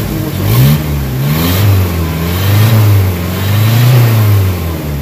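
A Nissan Vanette engine, repaired for low power and throttle delay, revs in repeated rising and falling surges over a steady idle, close and loud, with no talking.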